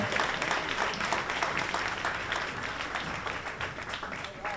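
A crowd claps warmly for New York Mayor Eric Adams at the Jamaica 60 New York launch reception. The applause is steady and sustained, with voices over the clapping.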